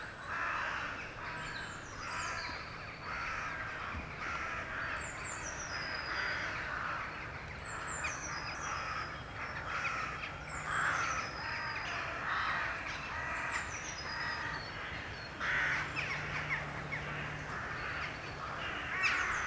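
Crows caw repeatedly at dusk as they fly in to roost, many harsh calls overlapping at middle distance over a quiet outdoor background, with no voices.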